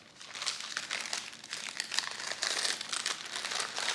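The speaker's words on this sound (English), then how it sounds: "lots of crinkling happening" Advent calendar gift packaging, a padded square parcel, is crinkled and crumpled by hand in close, continuous rustling bursts with no talking.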